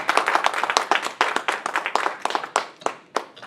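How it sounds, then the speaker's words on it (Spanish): A church congregation claps during a Sunday service, loud rapid hand claps in an uneven rhythm that thin out toward the end. "Dale ese aplauso al Señor."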